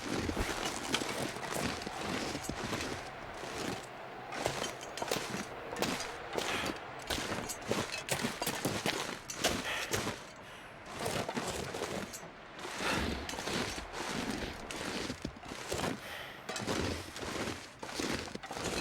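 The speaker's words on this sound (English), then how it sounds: "Horse." A horse's hooves clip-clopping steadily in a video game, a continuous rapid run of sharp hoof strikes close up and moderately loud, with no talk.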